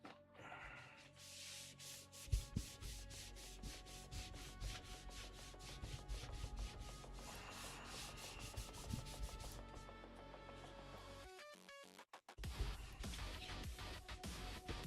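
Rubbing and wiping across a workbench surface used for model painting, a steady scrubbing texture with louder strokes, close and continuous, with a couple of brief pauses near the end.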